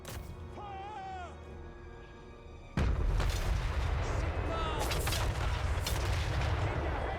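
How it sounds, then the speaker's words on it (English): Howitzer artillery in the strategy game Total War: Warhammer III: a sudden heavy boom, then a sustained roar of battle noise with scattered cries. It follows a quieter stretch with a voice and pitched sounds. "Look at these fucking gigantic howitzers."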